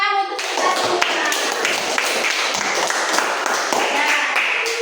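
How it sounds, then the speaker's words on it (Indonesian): An elementary school class applauding at the end of a lesson, a brisk, close run of many hand claps that carries on steadily, with some voices mixed in. "Kasih tepuk tangan untuk kita semua."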